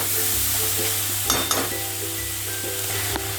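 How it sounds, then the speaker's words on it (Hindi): Sizzling from tomatoes, garlic and ginger frying in a pan for chicken noodles, with steady frying hiss and a few scraping stirs and light utensil clinks partway through, close up and without talk. "डाल के सारे चीज़ों को अच्छी तरह मिला के 2 से 3 मिनट अच्छी तरह ऐसा पकाना है।"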